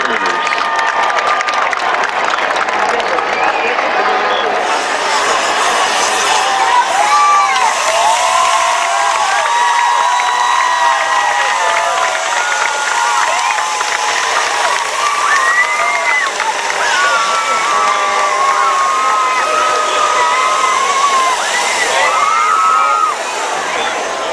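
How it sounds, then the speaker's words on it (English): A loud high school football crowd at a night game cheers, shouts and applauds continuously, with many overlapping excited voices, whistles and children's shrieks forming a dense roar that fades out at the end. "Let's give her a round of applause"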